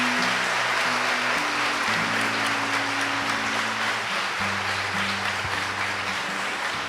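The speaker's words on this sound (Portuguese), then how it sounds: "Vamos dar uma salva de palmas ao Senhor que nos dá essa palavra." A church congregation applauding during a Lenten Mass, continuous clapping from many people under sustained low organ or keyboard chords that shift pitch throughout.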